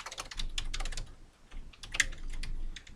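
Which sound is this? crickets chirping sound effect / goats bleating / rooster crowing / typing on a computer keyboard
typing on a computer keyboard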